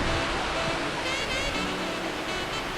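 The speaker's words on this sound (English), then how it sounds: "Water keeps flowing like a waterfall." Water pours and rushes continuously from a memorial fountain in New York City, a steady broadband roar like a waterfall, fairly soft and unchanging with no other sounds standing out.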